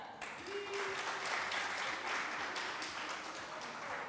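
Studio audience applause on a French television game show, a steady wash of many hands clapping that swells briefly and holds at moderate volume with a faint voice near the start.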